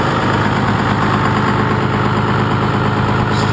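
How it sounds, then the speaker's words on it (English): A 6.2L Cummins diesel engine idles slightly high, parked out in a pasture: a loud, steady, close-up rumble with a constant vibrating drone and no break in the sound. "I don't know how well you can hear me talking over the motor, but it's pretty loud and it's idling just a little bit high."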